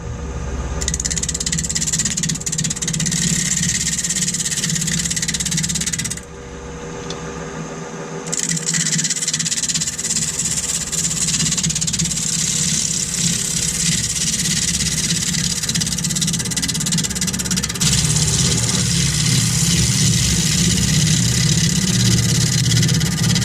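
A woodturning lathe spins at about 1000 RPM, a loud steady mechanical hum and whir with a brief dip midway before resuming evenly, close and without talk.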